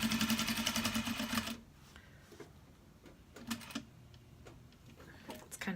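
A sewing machine back stitches a clutch wallet with a metal piece inside, a rapid rattling run of stitches for about a second and a half, then quieter handling clicks and taps as the fabric is adjusted.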